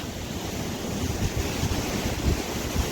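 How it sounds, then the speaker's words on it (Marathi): Continuous rushing water, like a nearby cascade, falls at Ransai Dam in forest near Uran, Raigad, with gusty wind buffeting the microphone throughout. "ते पाणी पडतं तिथून जाऊया"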